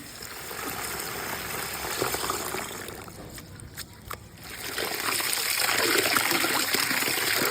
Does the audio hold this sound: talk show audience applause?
no